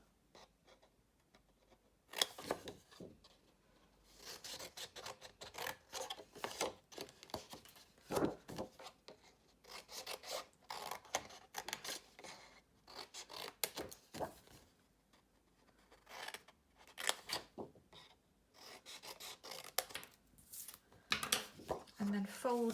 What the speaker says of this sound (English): So following the score lines, I'm going to cut away these 4 corners.